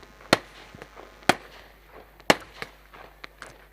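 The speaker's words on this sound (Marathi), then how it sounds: "फटाक्यांच्या आतिषबाजीमध्ये पाहुण्यांचं स्वागत केलं जातं आहे." Firecrackers and fireworks burst to welcome guests at a political gathering: three sharp, loud bangs about a second apart, with fainter pops and crackles scattered between them.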